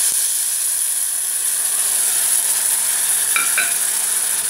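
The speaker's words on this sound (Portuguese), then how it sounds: "E vamos deixar refogar bem" Tomato and seasoning sautéing in sardine oil for a simple Sunday pasta: a steady close sizzle runs throughout, with a couple of quick utensil clinks near the end and no talking.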